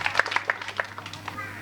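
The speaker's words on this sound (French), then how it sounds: "Je demande en tout cas d'applaudir ces acteurs-là" Scattered hand claps from an audience at a fire-arts night festival in Bobo-Dioulasso, a handful of distinct claps over a low steady hum, thin and moderately distant.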